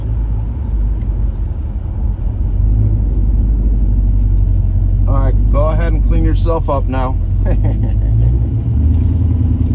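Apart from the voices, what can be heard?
classic car engine running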